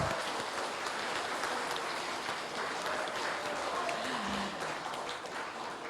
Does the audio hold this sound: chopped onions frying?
no